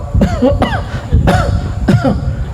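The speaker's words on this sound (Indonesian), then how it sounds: "syukurnya batuk kan tidak membatalkan sholat" Several separate coughs and throat-clearing bursts during a religious gathering, one at a time over a murmuring room background with no clear speech.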